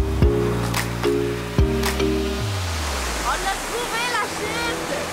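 A waterfall on Maui, Hawaii, reached by scrambling over slippery rocks, gives a steady broadband rush that runs beneath a few plucked musical notes at the start and later beneath a person talking.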